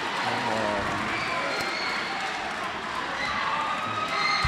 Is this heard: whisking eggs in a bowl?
no